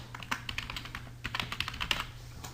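Quiet, close keystrokes on a computer keyboard as a scene name is typed, an uneven burst of light clicks with short pauses.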